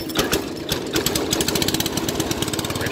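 A 1974 John Deere 110 lawn tractor engine cold starting: rapid, loud chugging firing pulses build into an uneven, rattly running beat close to the microphone.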